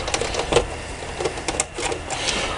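Screws come out of an arcade cabinet in a busy stretch of close mechanical whirring and clicking, steady and fairly loud, with no talk.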